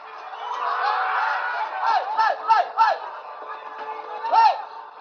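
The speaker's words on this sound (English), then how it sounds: "Crowds morph into mobs." Agitated crowd of street protesters heading toward Parliament, a dense murmur of many voices broken by several sharp rising shouts and cries that stand out near the front.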